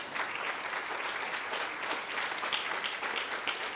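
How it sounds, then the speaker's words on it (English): An audience at a stakeholders outreach launch gives the speakers a round of applause, with continuous, even crowd clapping throughout and no talk over it. "give them a round of applause"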